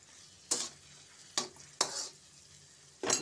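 Garlic and onion cooking in a pan, a faint quiet sizzle under four separate scraping stirs spaced unevenly over a few seconds.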